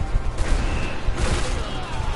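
A barrel explodes in Resident Evil 6, a loud booming burst followed by crackling fire and debris noise, with a second surge of roar a moment later.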